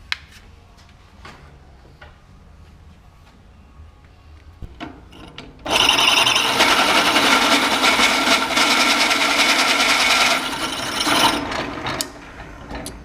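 An angle grinder working a steel backhoe bucket being cut down into an 18-inch mini excavator bucket, grinding loudly and steadily for about five seconds after quiet shop handling noises, then tapering off.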